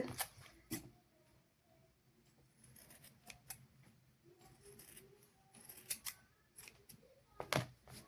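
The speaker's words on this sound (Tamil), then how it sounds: "இப்போ பாருங்கள் நாங்கள் கட் பண்ணியாச்சது" Scissors snip through fabric for a V-neck in a basic tailoring class: a quiet, close series of irregular sharp cuts with short pauses between strokes, and no talking.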